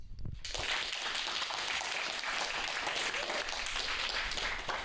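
Steady, dense applause from a crowd, continuous and fairly loud throughout after a brief start.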